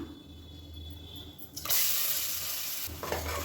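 Whole spices fry in oil for chicken biryani, a low crackle, then garlic paste drops in and bursts into a loud, bright sizzle that stays strong, close and alone without voices.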